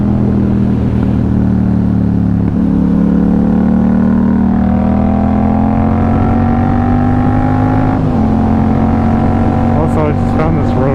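A Kawasaki ZX6R motorcycle engine drones steadily while being ridden, holding a fairly even pitch with gradual rises and a brief shift. A rider talks over the continuous, close engine noise.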